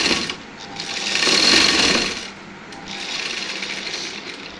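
A sewing machine stitches a short nighty, its steady mechanical whir swelling louder in the middle and then settling back to a lower, even hum, close by with no voices.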